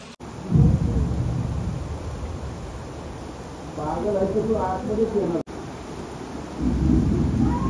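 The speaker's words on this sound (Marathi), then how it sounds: "पावसाने जोरदार वादळी वाऱ्यासह आगमन केलेलं आहे" Monsoon rain driven by strong stormy wind, a loud, steady broadband roar of downpour and gusts throughout, swelling in places, with a voice briefly audible partway through.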